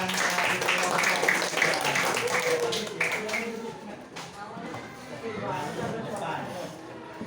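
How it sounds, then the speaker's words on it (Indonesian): Applause for a student group's representative in an Indonesian classroom, many hands clapping steadily for a few seconds before thinning out and mixing with talk and room noise. "tepuk tangan buat Apel perwakilan dari kelompok"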